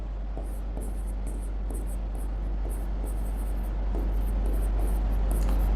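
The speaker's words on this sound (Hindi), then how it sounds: "चलिए लिख देता हूं" Marker or chalk writing on a classroom board, faint scratchy strokes in short repeated bursts over a steady low hum and background hiss.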